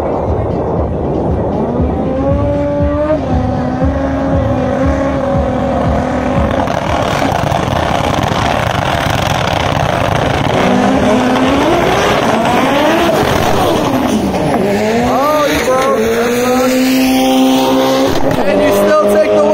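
Drag racing between a Subaru STI and a front-wheel-drive Honda at a Florida import meet at PBIR, with loud engines holding high and sweeping up through gears under crowd noise and a voice.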